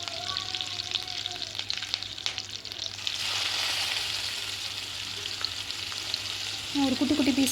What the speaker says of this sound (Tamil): நம்ம ஏற்கனவே கழுவி வச்சுருக்க சிப்பி காளான் சின்ன சின்ன பீசஸாக நான் நறுக்கி வச்சுருக்கேன், அதையும் இதில் போட்டுட்டு நல்லா வதக்கிக்கிறோம்